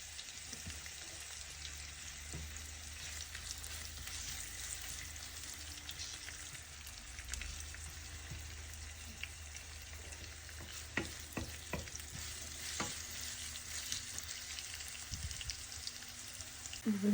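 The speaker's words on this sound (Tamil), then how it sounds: "எண்ணெய் கொதிச்சிட்டுது. நாங்கள் இப்போ வெட்டி வச்சுருக்கிற வெங்காயத்தை இதை போடுவோம்" Chopped onions fry in hot oil with a faint, even crackling hiss throughout, joined later by a handful of quiet spatula taps and scrapes against the pan.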